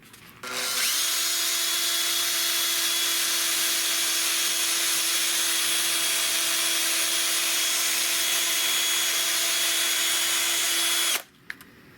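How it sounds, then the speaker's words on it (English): A power drill spins a steel part while sandpaper is pressed against it, a loud steady whirring hum with a rubbing hiss that runs unbroken for about ten seconds, then stops abruptly. "Chuck it up in a drill. And then take some sandpaper, and as you spin it, just rub it and make it oval."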